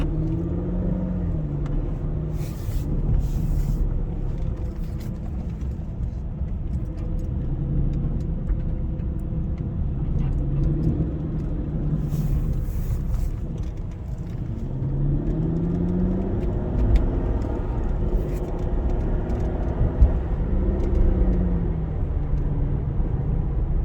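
A 2006 Aston Martin DB9 with the 6.0-litre V12 on a short drive in automatic mode, its engine a steady loud rumble heard from inside, rising and falling in pitch through gear changes, with no talking.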